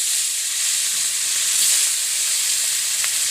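Pabda fish fry in hot oil with a loud, steady bright sizzle and hiss that stays constant throughout, with no talk.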